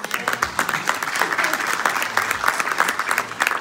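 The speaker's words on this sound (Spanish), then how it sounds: "Denle un aplauso al Señor, hermano." A crowd applauds, a sustained burst of clapping filling the room at steady volume.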